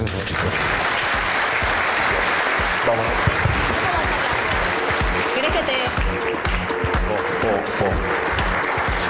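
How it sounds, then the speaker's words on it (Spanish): Audience at a construction forum in Mar del Plata applauding after a panel discussion, steady loud clapping from a crowd throughout, with people talking over it close by. "Renovamos aplausos, a ver, más fuerte"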